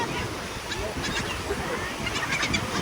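Several honking bird calls ring out over a steady wash of waves and wind, moderately close and repeated in short bursts.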